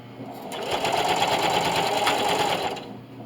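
A sewing machine straight-stitches binding through thick layers of a double mitt hotpad, running in one steady whirring burst that starts and stops cleanly, close and fairly loud.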